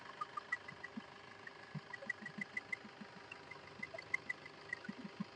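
A 2016 Maruti Suzuki Vitara Brezza ZDi Plus diesel engine idling, giving a faint, steady low hum with a light rhythmic ticking knock, heard from close by with no voices.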